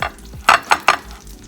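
Meat sizzles in butter in a cast iron skillet, with a few sharp bursts of spattering crackle over a low, steady fry.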